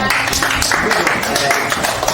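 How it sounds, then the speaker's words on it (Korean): A church congregation at a Sunday service in Namyangju claps together, a loud, dense, continuous patter of many hands filling the whole moment, with some voices underneath. "박수 한번 칠게요"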